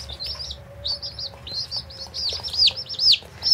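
Rhode Island Red and Barred Rock chicks peep in quick, repeated high chirps, some rising and falling, close and fairly loud over a faint steady hum.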